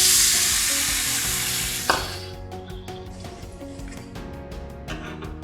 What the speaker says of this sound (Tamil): தண்ணி நல்லா கொதிக்க ஆரம்பிச்சிருக்கு பாருங்க